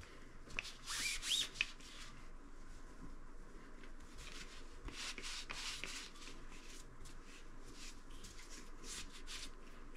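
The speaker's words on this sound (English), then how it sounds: "I'm going to put some oil just on a clean one and I'm going to run it through the barrel." An oiled cleaning patch is run through the barrel of a Steyr AUG rifle, making soft, close rubbing and scraping strokes with a louder burst early on, then quieter repeated pushes.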